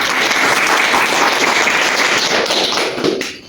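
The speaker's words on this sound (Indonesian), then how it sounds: "Tepuk tangan untuk perwakilan kelompok" Classroom applause for a group representative: steady, dense clapping from many hands close by, sustained for a few seconds before tapering off, with no talk over it.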